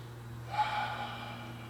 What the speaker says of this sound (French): on inspire par le nez et on souffle par la bouche de l'air chaud